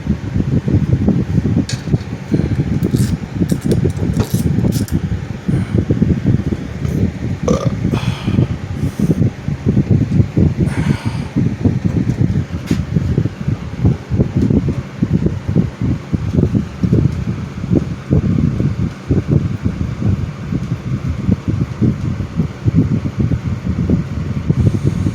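Wizard box fan running after a clean and service, a steady whooshing whir with light rattling and occasional clicks, continuous and fairly loud throughout.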